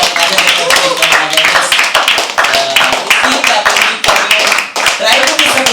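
Lively audience applause fills a room at a poetry open mic night, dense steady clapping close by with some voices mixed in throughout.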